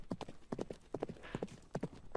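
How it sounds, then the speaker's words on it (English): A horse gallops in a virtual-world game, its hoofbeats a quick, steady clip-clop rhythm at moderate, fairly soft volume over a faint background. "Yep, a gallop sound. Well, the horse is galloping, so that works."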